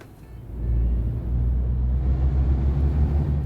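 Truck engine in Euro Truck Simulator 2 settles into a deep, steady low rumble that swells after a quieter start and then holds at an even, constant drone.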